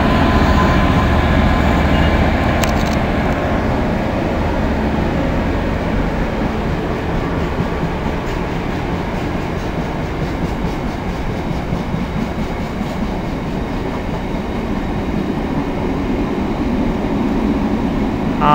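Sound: locomotive 66136 passing with a coal train

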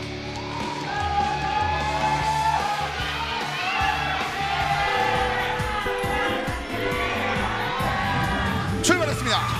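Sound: audience applauding and cheering at KartRider esports match

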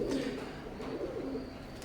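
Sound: Oman bloodline Teddy pigeons cooing

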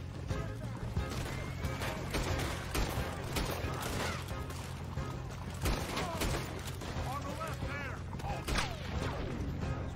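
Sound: gunfire from a video game

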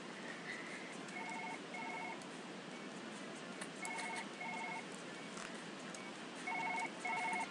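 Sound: telephone ringing in Surgeon Simulator 2013 video game

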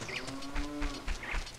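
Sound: cows mooing at Lon Lon Ranch in Zelda video game

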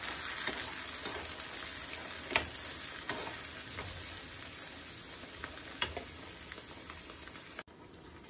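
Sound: onion frying in a little oil

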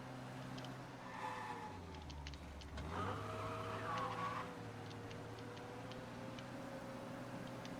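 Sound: police car in a video game

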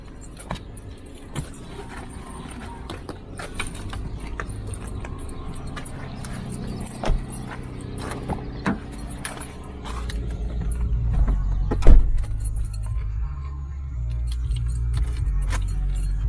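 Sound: car engine warming up

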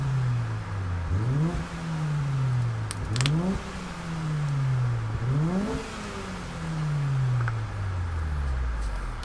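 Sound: Honda EK9 VTEC Type R engine in video game Gran Turismo Sport

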